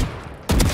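A gunshot headshot in the Valorant video game: after a lower muffled stretch, a sudden loud, sharp burst of gunfire cuts in and rings on to the end.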